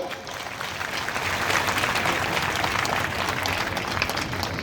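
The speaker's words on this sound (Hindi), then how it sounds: "जरा जोरदार ताली के बजा के स्वागत करो।" A crowd claps loudly and steadily to welcome Chief Minister Mohan Yadav at a public event in Kota. The dense, continuous applause holds for several seconds with faint voices underneath.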